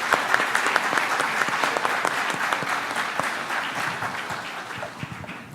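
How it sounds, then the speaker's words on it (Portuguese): A packed auditorium at a rural congress applauds a panel speaker, with dense, sustained clapping from a large crowd that fades slightly toward the end. "Auditório lotado, aplaude o painelista."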